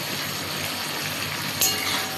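A spice paste with yogurt, cashews and raisins sizzles in hot oil, a steady close hiss with one brief sharper crackle partway through.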